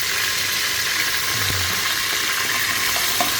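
Ground shallots and ginger sauté in a pan with a dense, even sizzle that stays loud throughout, broken by a few soft stirring scrapes and no speech.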